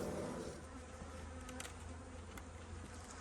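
Honeybees buzzing in a hive in a dense, continuous drone, close and quiet, with a few individual bees passing nearby.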